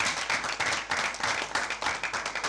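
An audience clapping and applauding in a dense, steady burst of handclaps that fills the whole moment, close and fairly loud with no talk over it.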